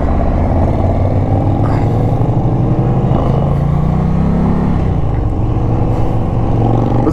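2020 Indian Challenger motorcycle engine with a deep, loud growl, rumbling steadily up close and rising in pitch midway as it accelerates, heard alone without talk.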